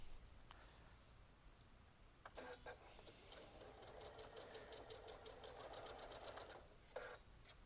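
A Janome high-performance sewing machine stitches through multiple layers of quilt fabric, its needle running in a steady, fast rhythmic chatter that starts with a couple of short bursts and then continues evenly, close and moderately loud.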